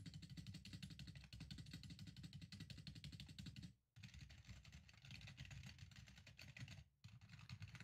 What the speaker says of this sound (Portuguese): Deixa eu digitar para vocês verem o barulhinho dele aqui.